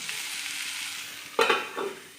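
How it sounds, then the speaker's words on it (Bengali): Beetroot, beans and potatoes fry in a pan with a steady close hiss, broken near the middle by a couple of louder stirring scrapes, no voices. "এখানে বিট সিম আলু ভাজা"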